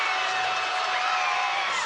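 A college basketball crowd in the App State at ULM game cheering a made open three-pointer, a dense sustained roar that stays loud throughout.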